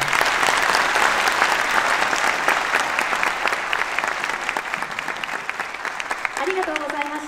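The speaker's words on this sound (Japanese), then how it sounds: "今一度盛大な拍手をお願いいたします" After a performance by the Aichi Prefectural Police band at a city traffic safety rally, a large hall audience gives sustained applause, full at first and easing slightly, with a voice briefly audible near the end.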